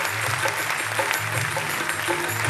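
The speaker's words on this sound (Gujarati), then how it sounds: "સમગ્ર કવિઓ સમાજના જે હોદ્દેદારો છે એ બધા માટે ખૂબ જોરદાર તાળીઓ થવી જોઈએ." An audience in an auditorium at a Gujarati folk dayro performance claps steadily, a dense continuous patter of applause at moderate volume with no voices over it.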